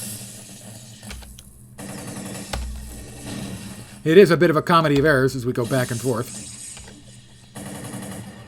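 Rapid bursts of video game gunfire rattle out in the middle of the clip, loud and clustered, while a commentator keeps talking over most of it.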